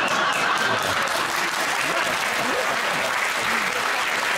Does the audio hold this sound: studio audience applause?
yes